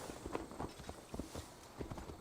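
Horse hooves clop at a walking pace in Assassin's Creed Valhalla, a quiet, uneven series of soft thuds.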